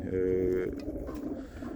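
Pigeons coo at a racing pigeon loft during a training session, with a close, soft, throaty bubbling call at the start followed by quieter rustling and further low cooing.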